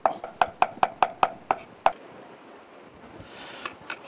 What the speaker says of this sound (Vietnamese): Rồi chúng ta đập dập và băm nhỏ.